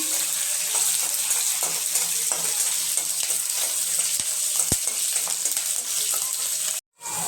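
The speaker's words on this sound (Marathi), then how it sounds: "आता आपण यात ही हिरवी मिरची घालून घेणार आहे हिरवी मिरची छान परतून घेणार" Green chilies crackle and sizzle in hot oil in a pan as upma is started, a steady dense frying hiss with a few soft stirring knocks, close and continuous until it cuts off near the end.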